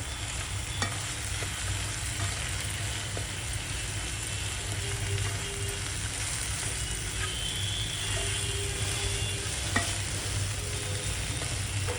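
Soaked poha frying in a pan gives a continuous sizzle as it is stirred and mixed, with occasional spoon clicks against the pan and a low background hum throughout.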